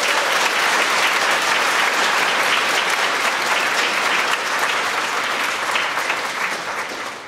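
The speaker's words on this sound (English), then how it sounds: "a round of applause for her" A school audience claps steadily at a high school fall choir concert, a dense, even round of applause that holds strong throughout and tapers slightly toward the end.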